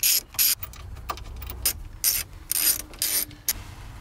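A ratchet wrench loosens the nuts securing the steering column of a 1992 Mazda Miata, heard alone in several bursts of quick, close clicking with short pauses between them.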